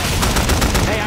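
Rapid AK rifle gunfire from the co-op zombie shooter Left 4 Dead 2, a dense, loud burst of automatic shots lasting about a second with no gaps.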